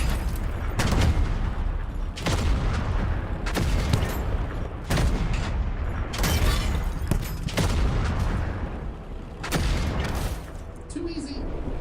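Video game gunfire in bursts of loud shots and booms repeated through the clip, with gaps between volleys, alongside a player's voice in places.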